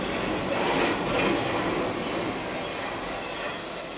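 A CSX freight train rumbles past close by, a dense roar of rolling wheels and rail noise that swells then slowly eases as the cars go by.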